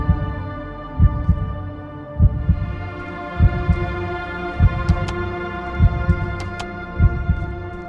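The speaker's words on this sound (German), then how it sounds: "Oh, das Herzklopfen hört auf." Deep, loud heartbeat from a horror video game, double thumps repeating about once per second over a low droning hum, with a few sharp high tones briefly cutting in.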